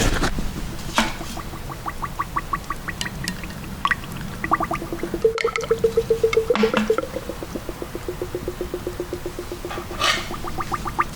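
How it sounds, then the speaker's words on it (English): Air bubbles pop in the fork oil of a 1999 Yamaha R1 front fork, making close, quiet trains of rapid tiny ticks and squishy pops that come in repeated runs. "I don't know if you can hear that bubbles popping."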